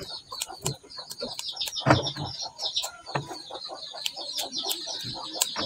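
Chickens cluck and chirp repeatedly nearby, with scattered bird calls and rustling in an outdoor farmyard setting.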